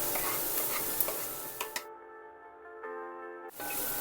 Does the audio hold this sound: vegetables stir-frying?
yes